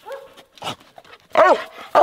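A few sharp dog barks and yips in separate bursts, close and loud, with short pauses between them and no talking.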